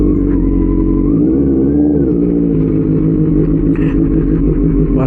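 A Benelli 600i motorcycle idling and rumbling steadily up close as it is parked, a loud, continuous low engine drone with slight throttle shifts and faint clatter.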